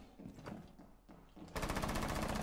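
Video game gunfire breaks out suddenly partway through, a dense, loud burst of rapid automatic fire after a quieter stretch of scattered ambient sound.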